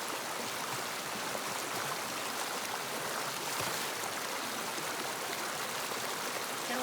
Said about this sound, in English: right now the creek is running really good and it'll have plenty